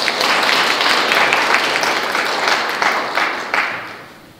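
An audience at a volunteers' day ceremony in Eunpyeong claps together in dense, sustained applause that gradually thins and fades over a few seconds.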